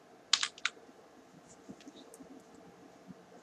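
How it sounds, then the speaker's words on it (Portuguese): A few quick keystrokes on a computer keyboard, close and crisp, then quiet room tone with faint clicks, no speech. "vou digitar aqui AG."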